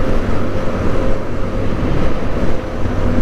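Motorcycle engine cruising steadily in sixth gear, a smooth continuous drone with wind rush over the microphone, close and loud throughout.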